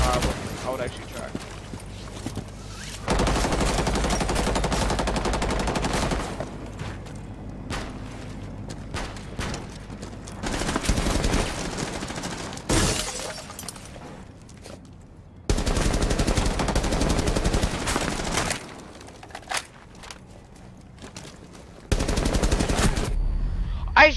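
Loud gunfire in the video game Rainbow Six Siege during a ranked match, sustained automatic bursts and rapid fusillades separated by brief lulls, with a player talking over the shooting.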